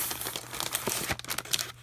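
Crinkly plastic packaging around an inexpensive pencil case is crumpled and torn open in quick, close rustling bursts, with no talking.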